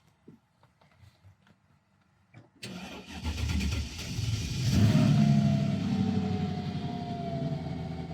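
High-mileage car with about 310,000 miles cranks briefly after a few faint clicks, then catches and fires up, settling into a loud, steady idle close by.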